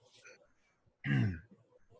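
A single loud, rough throat-clearing cough stands out in the middle, surrounded by quiet murmuring voices.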